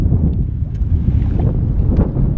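Strong wind buffets the microphone in a steady low roar over open water while kayak fishing, with faint splashes and rustling underneath.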